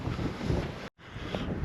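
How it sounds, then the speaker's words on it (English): Strong wind buffets the microphone on open Pendle Hill in the late afternoon, a loud, continuous roar that cuts out for an instant before rushing back just as hard. "Very windy though, very windy late afternoon."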